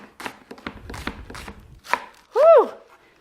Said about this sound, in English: And then thinly slicing them crosswise.